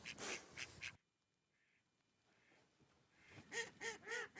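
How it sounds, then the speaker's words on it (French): Ducks quack near a calm bay: a loud run of rapid nasal quacks, a quiet pause with a few faint distant calls, then another close burst of quacking. "il y a le bruit des canards"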